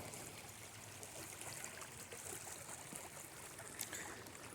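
Creek water runs through a drainage ditch during a flood warning, a steady rushing trickle and babble that holds at an even level throughout, with no voices.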